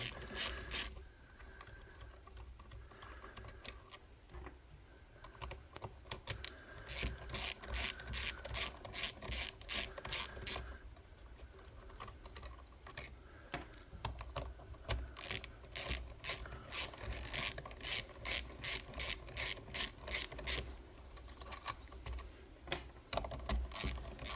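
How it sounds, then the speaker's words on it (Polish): Rapid ratchet clicks from a screwdriver backing screws fully out of a Graphite 59G680 110mm electric planer, coming in fast repeated bursts, close and fairly loud, with brief pauses between runs and no talking. "Wykręcamy całkiem śruby."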